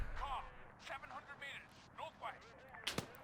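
Soldiers opening gunfire in Arma 3 during a Royal Marine rescue: a string of sharp, cracking shots, some distant, in uneven bursts, with a sharper, louder crack near the end, mixed with speech-like sounds.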